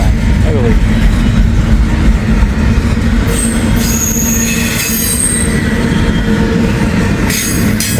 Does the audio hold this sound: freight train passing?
yes